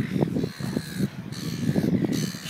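Seagulls call harshly at Nobbies on Phillip Island, with a close, loud flock giving a string of rasping squawks and cries over outdoor wind noise.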